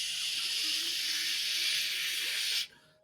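Steam hisses loudly and steadily as water is poured on a fire, a continuous bright rush that cuts off abruptly after a few seconds, leaving a low hum.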